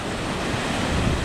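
Rough sea with high wind, a loud continuous rush of breaking waves and gusting wind buffeting the microphone, steady and close for the whole brief stretch.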